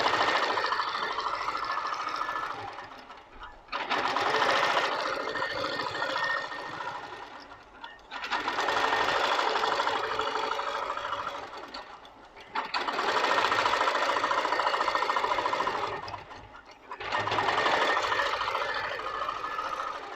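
Moxie Pro-Stitcher Lite quilting machine stitching a quilt block: four long runs of rapid, buzzing mechanical stitching, each separated by a brief pause, close and fairly loud.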